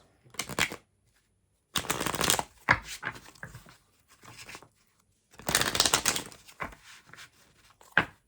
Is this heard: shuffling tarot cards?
yes